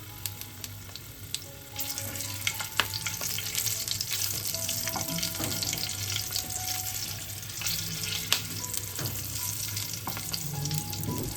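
Nigella seeds and dried red chillies crackle in hot oil left over from frying pabda fish, a close, continuous sizzle that swells after the first two seconds, with light pops and utensil clinks and no voices.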